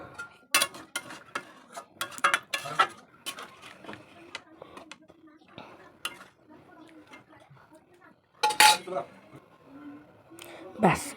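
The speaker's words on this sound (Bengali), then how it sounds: "বাটিতে পরিবেশন করে নিলাম।" Pots and serving utensils clink and tap while mutton curry is ladled into a bowl in a home kitchen, scattered sharp knocks in uneven bursts, with a voice talking between them.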